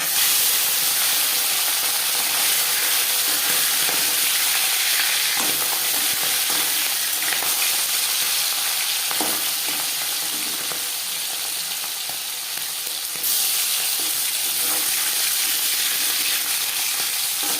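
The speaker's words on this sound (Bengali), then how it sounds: "মাছ ভাজবার জন্য বেশ খানিকটা রিফাইন্ড অয়েল গরম করে নিয়েছি" Marinated fish pieces fry in a generous amount of hot refined oil, a loud, continuous close hiss and crackle that runs steadily throughout with no talking.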